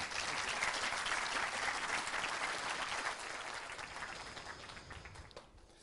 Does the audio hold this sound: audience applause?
yes